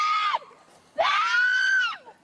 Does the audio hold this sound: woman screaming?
yes